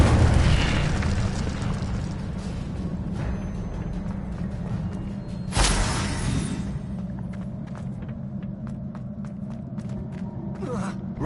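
A fire spell, Incendio, cast in Hogwarts Legacy on PS5: a loud burst at the start, then a sharp whooshing flare midway, over steady low game ambience and rumble.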